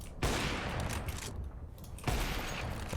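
Rapid bursts of gunfire from a weapon in an FPS aim-training game, dense and continuous with a brief pause before firing resumes.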